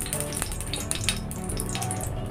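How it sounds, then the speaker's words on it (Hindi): A mixture is stirred in a frying pan, with a constant sizzle broken by a few sharp scraping and metal clinks, close and fairly quiet, with no one speaking. "अब इसको अच्छे से हिला लेंगे।"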